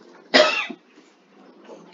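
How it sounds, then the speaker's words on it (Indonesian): A single sharp cough from someone speaking alone, close and fairly loud, a quick burst followed by quiet room tone. "maaf batuk."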